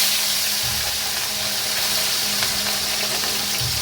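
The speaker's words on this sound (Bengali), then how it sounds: "তেলটা বেশি দিতে হবে যেন মাছটা ডুবো তেলে ভাজা হয়।" Small mourola fish deep-frying in plenty of hot oil, a dense continuous sizzle and bubbling heard up close, steady throughout the short stretch with no voices.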